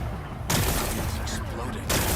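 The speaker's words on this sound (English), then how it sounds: "Gotta blast away some rocks, so I can expose the power cell." In the video game Horizon Forbidden West, rocks are blasted apart by explosions, and loud broadband blasts burst in abruptly twice over the ongoing game soundscape.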